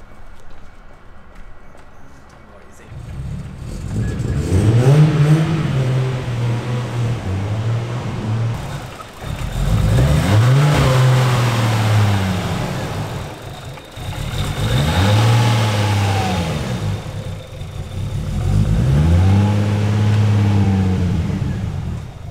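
A Nissan R34 Skyline's engine is run up on a dyno in four long, loud pulls, each one climbing steadily in pitch before dropping back, with no talk over it.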